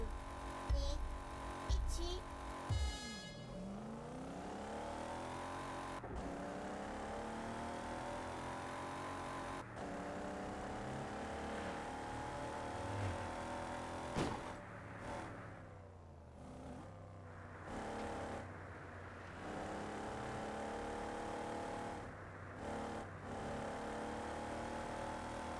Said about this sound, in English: I'm gonna put some cars back on the road.